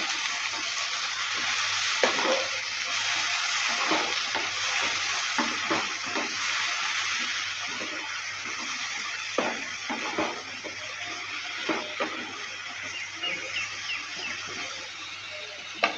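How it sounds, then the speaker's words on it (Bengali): A paste of ginger, green chili, onion and cumin frying and being stirred in a pan for an ol kochur curry, with a steady close sizzle and occasional scraping knocks of the spoon, no talk. "মশলার পেস্টটা দেওয়ার পর ভালো করে আবারও নেড়ে চেড়ে দিচ্ছি।"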